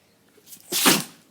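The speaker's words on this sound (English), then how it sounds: "She literally sneezed on my foot." A dog gives one short, sharp sneeze up close, a sudden burst of air that follows a faint snuffle and dies away quickly, with no talking during it.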